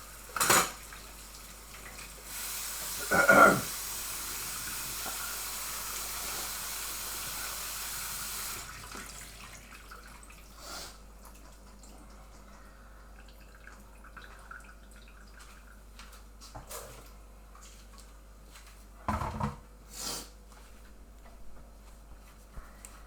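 Canned cannellini beans are rinsed in a colander under running water, which hisses steadily for several seconds. Clinks and knocks of a metal bowl and utensils follow, close but faint in a quiet kitchen.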